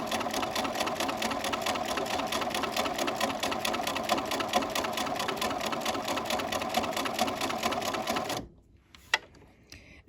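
A sewing machine stitches a curve on fabric, running in a fast, even mechanical rattle close to the microphone for about eight seconds before stopping abruptly, followed by a couple of faint clicks.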